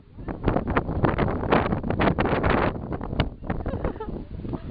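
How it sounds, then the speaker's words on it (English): Strong wind buffets the microphone beside the Moorish castle in Sintra, Portugal, in loud, continuous rumbling gusts that barely let up. "Like on this side of the castle you get the wind. Yeah, it's quite windy."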